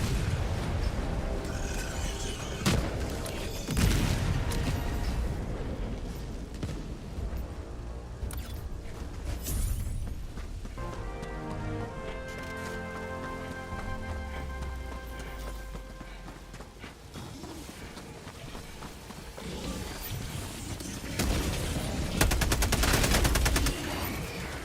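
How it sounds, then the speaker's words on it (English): Orbital strike explosions land in a video game amid a dense battle soundscape, with repeated heavy booms, crackling gunfire and rumbling impacts rolling on for about twenty-five seconds and loud swells at the start and end. "Dropship requesting orbital strike."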